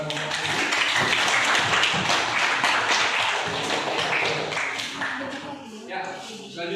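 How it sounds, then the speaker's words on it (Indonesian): A classroom of students applauds, dense clapping that fades gradually over several seconds, with voices talking over the tail. "Oke, kita kasih tepuk tangan kepada"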